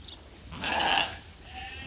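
A sheep at a hay feeder on a farm gives a single bleat of about half a second against a quiet background.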